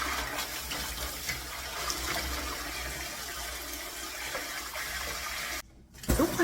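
Running water streams steadily while vegetables are rinsed clean, a continuous gushing wash that cuts off briefly near the end before a short splash.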